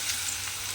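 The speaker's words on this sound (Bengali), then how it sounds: "দেখুন আলুটা তেলের মধ্যে দিয়ে দিলাম। দিয়ে এবারে আলুটাকে আমি একটু এইভাবে লাল করে ভেজে নেব।" Diced potato fries in oil for a cabbage dish, giving an even, soft, continuous sizzle with no talking, fairly quiet and unbroken throughout.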